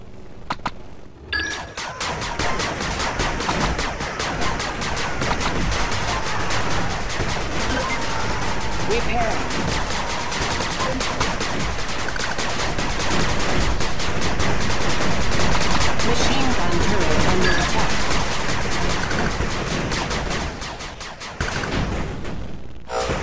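A machine gun turret in 8 Bit Armies fires in a long, loud, continuous rattle of rapid shots lasting over twenty seconds, with battle noise layered underneath and a brief voice line near the start.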